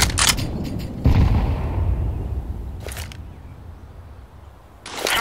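Grenade thrown and detonating in CS:GO on the Inferno map, a sudden heavy blast that rolls off into a long fading rumble, framed by sharp clicks and bursts of nearby gunfire.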